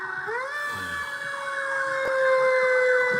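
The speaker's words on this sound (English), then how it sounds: "it is time for the fire truck sound" Fire truck siren wailing loud and steady, a single rising tone that settles into a sustained high electronic whine with harmonics, holding alone without speech for the whole span.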